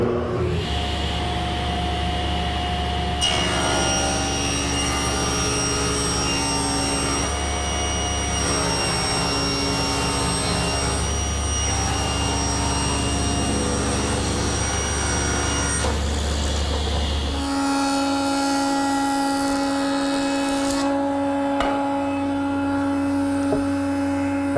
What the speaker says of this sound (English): I'm going to rip it a little bit strong so I can take it back to the joiner for a final pass